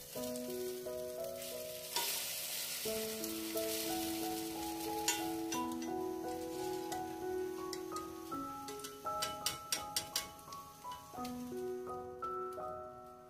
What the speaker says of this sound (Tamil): ஸோ அப்பளமும் மோர் மிளகாயும் ஃப்ரை பண்ணி எடுக்கிறேன்.